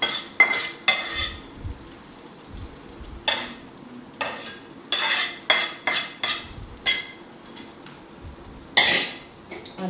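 A spoon scrapes and clinks against a pot as grated carrot is stirred into payasam, giving repeated sharp metallic strokes in an irregular rhythm, close and fairly loud, with no talking.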